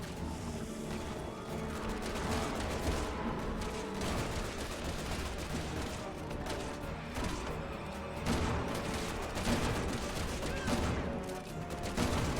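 Dense, rapid gunfire from the video game Resident Evil 6 rattles on without pause, bursts and crashes layered into a steady faint barrage throughout.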